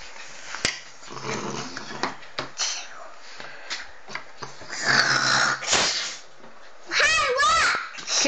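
A dog snoring on request, giving rough snorting bursts and a few whiny, warbling vocal sounds near the end, close by, with people's voices faintly mixed in.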